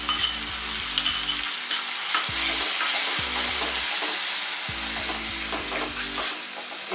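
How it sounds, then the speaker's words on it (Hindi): Onion paste frying in a pan while being stirred, a loud continuous sizzle with rhythmic scraping strokes, clustered at the start and again near the end. "इसे अच्छे से ब्राउन होने तक भून लेते हैं।"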